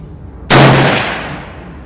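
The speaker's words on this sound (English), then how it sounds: "I'm gonna go for the fourth shot" A single sharp, loud rifle shot from a Browning BLR lever-action chambered in .358 Winchester, fired with open sights at a 25-yard target, rings out up close and decays over about a second.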